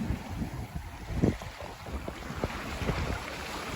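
A sailboat runs south at about five knots in a southerly wind, with gusty wind buffeting the microphone and irregular splashes and thumps of water against the hull up close, and no one speaking.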